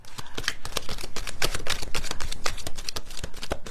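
Cards are shuffled in quick bursts of crisp, riffling flutters, close up and steady for a few seconds with no talking.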